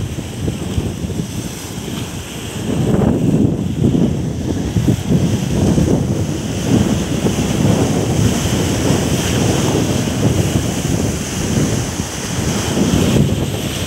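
Mediterranean Sea waves at Ayia Napa, Cyprus, roll and surge in a continuous rushing wash, loud and close, with blustery wind buffeting the microphone throughout.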